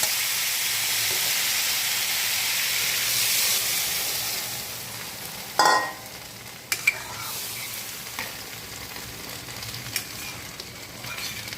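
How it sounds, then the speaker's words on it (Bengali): Water is added to a potato and ridge gourd masala that has been fried in a pan. A loud, steady sizzle fades, then a sharp hissing burst and a few scattered clatters follow. "এখন বন্ধুরা জল দিয়ে দেবো।"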